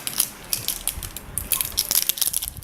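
Generic LED fog lamp packaging being cracked open by hand, with a run of sharp crunching and snapping plastic sounds, close and fairly loud, with no talking.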